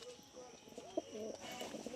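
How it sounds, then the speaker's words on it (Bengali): Several pigeons coo in low, rolling murmurs close by, with light rustling and faint chirps mixed in. "ফুল অ্যাক্টিভ পায়রা বন্ধুরা, সব পায়রা ফিট পায়রা"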